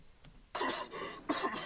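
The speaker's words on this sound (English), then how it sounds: "So I'm getting over this fucking cough, man." A person coughs in two harsh, raspy bursts close to the microphone, with a brief pause between them. A faint throat sound comes just before.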